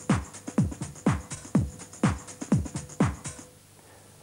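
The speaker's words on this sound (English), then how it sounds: "we have a short recording. Well, it's a simple 2-bar drum loop." Two-bar drum loop played back from a Roland VS-880 digital recorder, with steady punchy kick-and-snare hits repeating evenly for about three and a half seconds before stopping, heard alone and clean.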